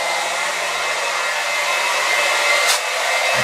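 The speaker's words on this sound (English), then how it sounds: "Pumping the oil out of this container through this pump" A pump transfers heating oil from a container through a hose into a 275-gallon oil tank, giving off a loud, steady, close motor whir with a high whine and no breaks, with nobody speaking.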